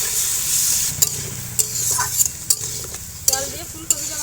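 Cauliflower being stirred in a pan with turmeric for an egg curry, a steady low sizzle of frying under sharp scraping clacks of the spoon against the pan at irregular intervals, close and alone without talk.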